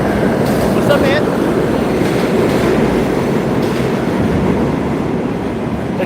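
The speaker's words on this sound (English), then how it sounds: "The train's going by" A train passes close by, a loud continuous rumble of rolling railcars with rhythmic wheel clatter and occasional squeals, holding steady throughout.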